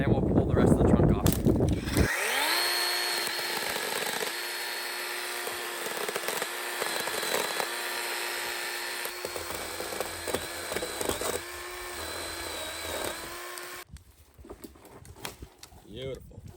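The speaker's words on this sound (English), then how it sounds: "we're gonna take the chainsaw and limb it, take all the limbs off" A chainsaw limbs a fallen tree at a snowy winter campsite, its steady motor drone holding for about twelve seconds at moderate distance, with people talking around it before and after.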